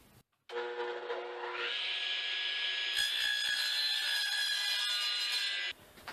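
A saw cuts through wood for the side and end pieces of a small box, one steady continuous cut with a rising, whining tone partway through, close and loud, with no talking.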